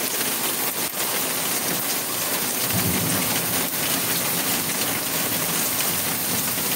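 Heavy rain pours steadily during Tropical Storm Grace in Jamaica, a dense continuous roar with a low rumble of thunder swelling in the middle, loud and close throughout.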